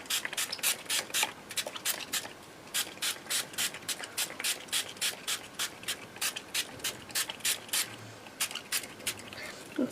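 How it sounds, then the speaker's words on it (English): Spray stain hisses out of a can onto mixed media journal cards in a long run of short, sharp bursts, each a second or less, close up and with no talking. "I'm going to use my spray stain, and I'm just going to spray onto my journal cards."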